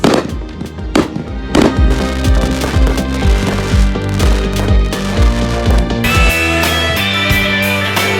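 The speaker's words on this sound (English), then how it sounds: "day with fireworks like this." Fireworks exploding continuously, with dense overlapping bangs and crackles over a rumbling low boom, loud and close throughout with no speech.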